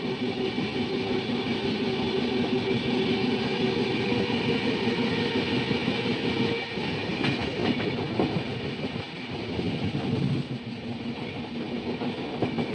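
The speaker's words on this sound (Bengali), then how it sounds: "এটা কিন্তু একটা মেমু ট্রেন" A MEMU train passes in the rain near Whitefield station, Bangalore, a heavy continuous rail rumble with faint clickety-clack from the wheels, close and steady throughout, dipping briefly before resuming, with no talk.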